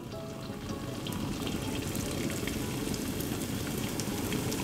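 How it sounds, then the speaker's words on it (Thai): Batter sizzling in hot oil over medium-low heat as a snack mould is dipped in to fry old-style Thai peanut crisps; a steady, dense crackling hiss runs throughout with no talking. "ทีนี้เราก็นำไปทอดได้เลยครับ"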